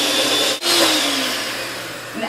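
An electric mixer beats buttercream frosting of butter and powdered sugar at medium to high speed. It makes a loud, steady whirring drone that dips briefly once and then runs on continuously.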